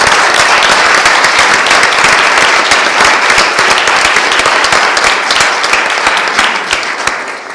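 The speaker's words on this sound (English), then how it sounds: "I'd like to invite the rest of you to join me in a round of applause for these students" An audience at a World Affairs Council of Philadelphia debate event gives students a sustained, dense round of applause, loud and steady throughout before tapering slightly at the end.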